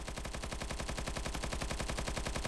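Gunfire in a video game fight, a continuous rapid stream of evenly spaced shots that stays loud and dense from start to end.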